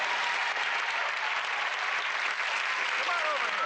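Steady, dense applause from a television studio audience on a late-night talk show, loud and continuous throughout with no talk over it.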